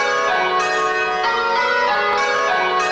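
English church bells ringing changes, a set of six bells struck one after another in a steady, even sequence of clear overlapping tones that stay loud and resonant throughout.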